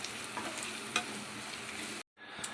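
Masala frying in oil in a pan for paneer bhurji, a continuous sizzle with light stirring scrapes and a spoon tap, cutting out briefly near the end before resuming.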